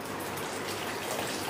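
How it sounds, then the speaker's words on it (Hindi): Water pours steadily into a kadhai while noodles are being cooked, a brief continuous gushing splash heard close and fairly quiet. "डाल देते हैं पानी"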